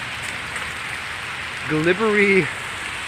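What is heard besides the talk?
rain falling at around zero degrees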